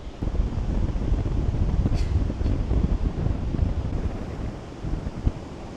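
Heavy surf roars continuously on Siargao Island, Philippines, with wind buffeting the microphone, a loud, broad rushing wash without distinct breaks between waves.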